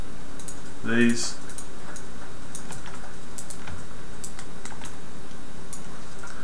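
Computer mouse clicks while unwrapping a model in 3DCoat, a light click near the start followed by faint scattered ticks under a steady hum, with someone speaking briefly.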